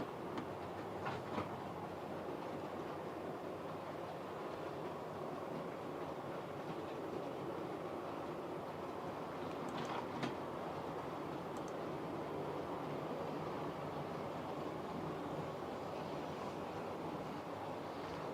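A train running on rails, a steady rumbling roll with faint rhythmic clicks and occasional brief squeals, moderately quiet and continuous with no talk.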